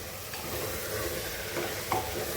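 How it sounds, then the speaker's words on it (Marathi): Taro leaf curry with a coconut, chilli and cumin paste sizzles in a pot while being stirred, a steady soft bubbling hiss with a few light scraping knocks, close and without talk. "पुन्हा ढवळायचं."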